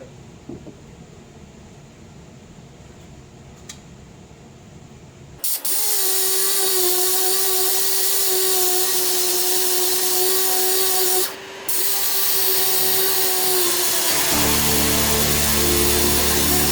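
After a quiet start, a dual action sander bites into fiberglass fender flare bodywork on a 2006 Mazda Speed 6, whining loudly and steadily at close range, dipping briefly midway, then shifting to a lower droning pitch near the end.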